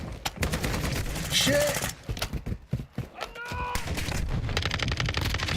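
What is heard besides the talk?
gunfire in Black Ops 6 video game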